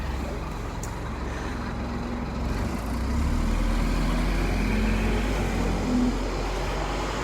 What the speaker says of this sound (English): Here's our Island Breezer, our open-top buses.